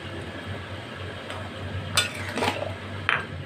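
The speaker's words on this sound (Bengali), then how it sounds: "এভাবে আমি আস্তে আস্তে সব মশলাটা মিশিয়ে দিচ্ছি।" Spices being slowly stirred into a sweet raw mango and jaggery pickle, with soft scraping and a few sharper clinks of a spoon against the pan or bowl, close and fairly quiet.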